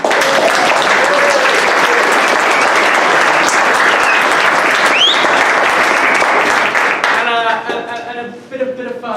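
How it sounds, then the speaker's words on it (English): Sustained, loud audience applause after a presentation at an electric-vehicle event, dense clapping filling most of the stretch before tapering off near the end. "So why don't we give Nikki one more round of applause?"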